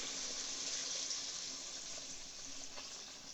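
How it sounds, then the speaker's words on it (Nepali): Water pours into a pot holding chicken for soup, a steady quiet rushing flow that runs evenly from start to finish. "पानी एड गर्छु"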